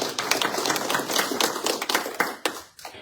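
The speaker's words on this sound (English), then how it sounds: "Let's clap for that." A modest audience at an elementary and middle school event claps, a close, uneven patter of individual hands for about three seconds, with no talking.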